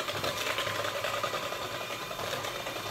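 An electric mixer creams butter, sugar and chocolate together, a steady whirring motor drone that runs continuously at a fairly quiet level with no talking over it.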